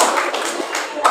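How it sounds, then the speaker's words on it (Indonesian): A classroom group claps in a short burst of quick hand strikes, with several sharper taps standing out, while a voice speaks over the applause. "Boleh tepuk tangannya"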